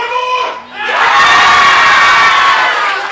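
A wrestling crowd at a tournament show roars and cheers after a big chop in the corner, a brief dip and then a loud, sustained wave of shouting and whooping filling the hall.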